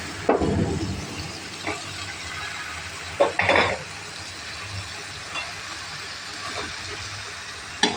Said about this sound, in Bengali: মশলাটা কষা কষানো হয়ে গেছে এখন আমি সবজিগুলো জেলে দিলাম